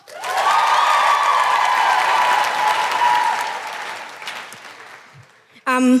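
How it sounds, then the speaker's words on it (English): A live comedy podcast audience in Perth breaks into loud applause with some cheering, a dense swell that holds and then fades out, before a voice cuts in at the end. "Big round of applause for Ziva."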